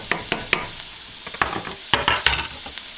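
Finely diced half of a small sweet onion hitting a pan of drained ground-meat grease, giving short bursts of sizzle and stirring scrapes, a few sharp spikes over a steady low crackle, close and fairly loud.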